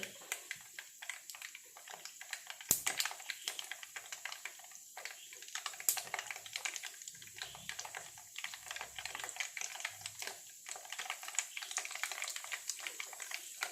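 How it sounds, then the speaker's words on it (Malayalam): Mustard and fenugreek seeds crackle in hot oil for a lemon pickle, giving a quiet, irregular stream of sharp little pops and snaps that continues throughout, with a few louder cracks. "കടുകും ഉലുവ പൊട്ടുന്നുണ്ട്."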